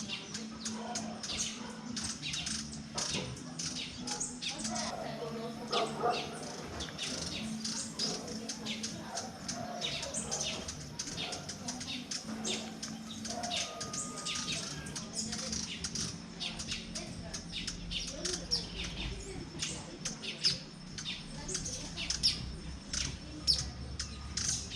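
Many birds chirp and call in the Mindo rain forest in Ecuador, with hummingbirds flitting close by; dense, steady chatter of small tweets fills the whole stretch at moderate loudness, with a low hum beneath.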